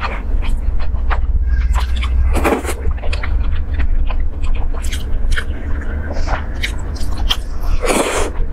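Someone eats eggplant with rice, with close, wet bites and chewing in an irregular rhythm and a few louder crunchy bursts over a constant low background hum.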